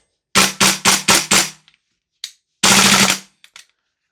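An airsoft Noveske MWS rifle firing: a rapid burst of five loud snappy shots, then a single shot and a longer sustained burst after a pause, close and crisp against silence.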